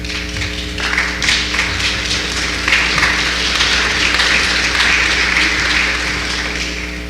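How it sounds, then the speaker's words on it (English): Sustained audience applause fills a convention hall as people exit the stage, a steady wash of clapping that swells after the first second and holds at an even, loud level throughout, with a constant low hum underneath. "Another round of applause as they exit the stage."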